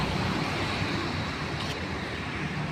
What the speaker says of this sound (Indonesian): Keindahan Pantai Padang guys.